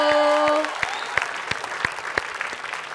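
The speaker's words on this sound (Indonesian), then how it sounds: "Luar biasa tepuk tangan dong sekali lagi" Audience applause on The Voice Indonesia knockout stage, clapping and cheering under a sung or held tonal note at first, then lively crowd clapping with sharp individual claps standing out.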